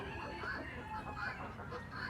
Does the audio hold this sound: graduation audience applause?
no